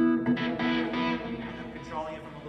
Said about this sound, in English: It goes through an electronic box that I have over here that changes these sounds.